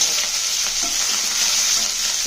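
Onions sizzle steadily in hot oil with mustard seeds and cumin for a brinjal curry, a loud, continuous frying hiss with a few soft stirring scrapes and no voices.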